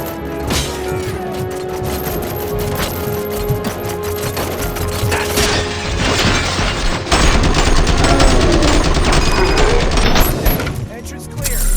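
Dense, sustained gunfire fills a Robocop: Rogue City shootout, with rapid bursts and cracks overlapping steadily. Shouted voices and other chaotic combat noise sit in the mix throughout.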